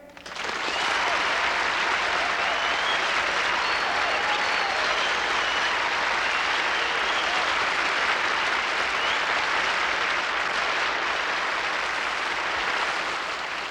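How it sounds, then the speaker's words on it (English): Sustained applause from a large pageant audience, loud and steady throughout, with no talking over it. "Let's have a nice round of applause for our special winners."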